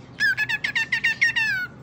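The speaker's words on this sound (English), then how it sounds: "Are you pretty bird Tato?" Close pet bird giving a quick series of about eight bright, rhythmic squawky calls in a row, each sharp and repeated in a fast pattern, heard alone without talk.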